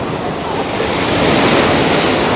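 Stormy sea waves break heavily on the shore at Chornomorsk, a loud, continuous roar of surf and wind-blown spray that swells slightly toward the end, with no voices.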